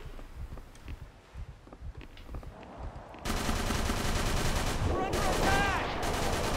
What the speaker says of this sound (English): Pretty sure I just shot that sailor.